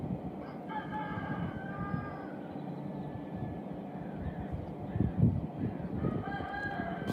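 A rooster crows at dawn in Israel, repeated calls carrying over a steady background hum, moderately distant and without speech.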